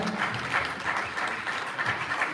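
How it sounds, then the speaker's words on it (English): A town hall audience applauds a panel in a hotel conference room, a dense, continuous wash of many hands clapping, moderately loud and steady for the whole stretch. "A big round of applause for the panel."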